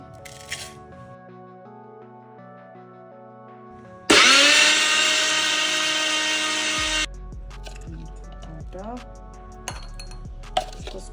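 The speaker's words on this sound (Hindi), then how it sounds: "फिर हम इस सबको मिक्सी में अच्छे से ग्राइंड करेंगे।" A mixer grinder grinding spices starts up loud and whirs steadily for about three seconds, then cuts off, with quieter kitchen clinks before and after.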